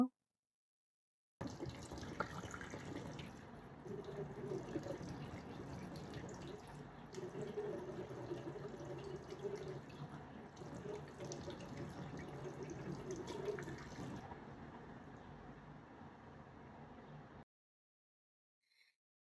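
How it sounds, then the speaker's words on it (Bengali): Tap water runs into a sink during face washing, a steady hiss for about sixteen seconds between stretches of silence, with light splashes and no talk. "রেডি হওয়ার আগে আমি একটু সুন্দর করে মুখটা ওয়াশ করে নিব।"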